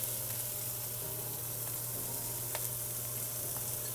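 Chopped onion sizzles in a pan of sausage fat and olive oil, a steady, even crackle and hiss with faint pops, heard close up with no talking.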